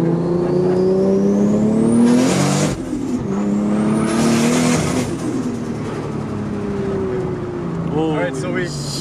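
MKIV Toyota Supra on a high-boost pull, spiking to 19 psi before boost cut: loud, close engine revving in rising sweeps through gear changes, with steady road and wind roar and a few brief chirps near the end.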